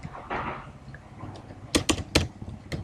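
Quick typing on a computer keyboard while writing C++ code, a few soft taps followed by a cluster of sharp, close key clicks, no talking.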